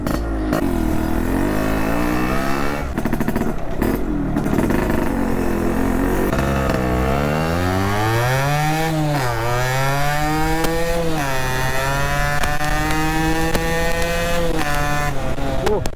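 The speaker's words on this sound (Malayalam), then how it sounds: "ബാക്കി സ്റ്റാൻഡ് പയ്യെ ഇങ്ങനെ തട്ടി കഴിഞ്ഞാൽ കിക്കർ ഇങ്ങനെ എടുക്കുക, ഒറ്റയടി" A Yamaha RXZ135 five-speed motorcycle, restored and modified, is kick-started and its engine revs up and down repeatedly, loud and close, with rising and falling pitch sweeps throughout.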